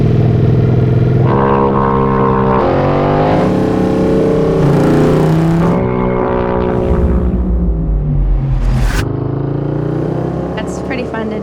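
A Royal Enfield motorcycle launches on the Bonneville Salt Flats in Utah, its engine revving loud and close, rising through several pitches before roaring away, with voices heard over it.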